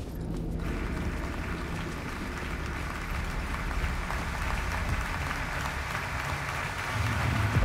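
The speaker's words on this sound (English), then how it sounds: "Round of applause, the theater scene." A theater audience in the video game Alan Wake 2 applauds, a dense, rain-like wash of clapping at moderate volume that swells slightly toward the end over several seconds.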